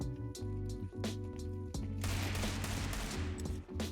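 Rapid automatic gunfire rattles in a competitive shooter match, with several quick bursts of shots in the first half, then a sustained volley of fire layered with clatter and echo.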